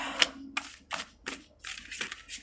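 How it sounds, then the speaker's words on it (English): Tarot cards being shuffled by hand in a quiet room, a series of soft, crisp riffling bursts spaced roughly a half-second apart, close and fairly faint with no talking. "one last little shuffle and then I will cut the deck"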